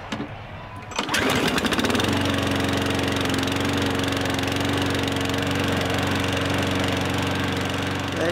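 A Honda Formula 1 engine in the F1 2017 racing game, mocked as a lawnmower, fires up after a brief quiet moment and drones loudly and steadily at a constant buzzing idle, close and alone.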